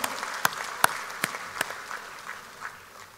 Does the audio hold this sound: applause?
yes